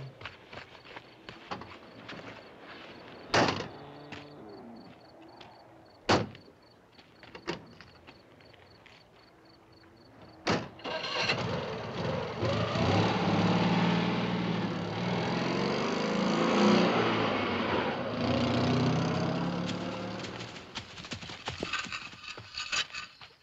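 A car at night in a 1960s thriller setting: sharp separate thumps of doors closing, then an engine starts and a steady, loud motor rumble builds and continues as the car drives off, with no talk.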